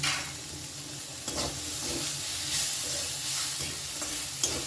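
A snack frying in a pan with Maggi masala and a little salt, giving a continuous close sizzle and hiss broken by a few soft stirring scrapes and knocks, with no talking.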